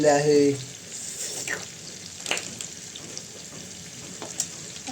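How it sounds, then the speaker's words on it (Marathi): Fish frying in a pan at home, a soft steady sizzle running under the whole stretch, with a brief louder burst of voice and clatter at the start and faint scattered sounds later. "बगा अपनी मच्छी फ्राय हो चल"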